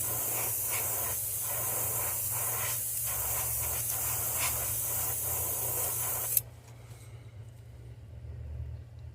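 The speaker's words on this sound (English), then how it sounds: "Then you take and spray this on the sides." Close spray-paint hiss from an aerosol can coating the sides of a crankbait lure, a steady broad hiss for about six seconds that stops abruptly, leaving quiet room noise and a low hum.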